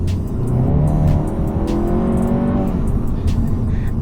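A stage 2 tuned Skoda Octavia VRS 230 accelerates hard in normal drive mode, its loud engine roar rising steadily in pitch as it revs through the gears, heard close from inside the car.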